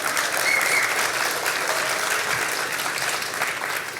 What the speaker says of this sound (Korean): 여기서 박수 한번 쳐주시죠